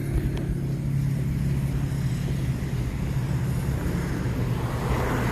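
Cars on a hill road produce a steady low engine and tyre rumble that sounds fairly close and constant, with no voices over it.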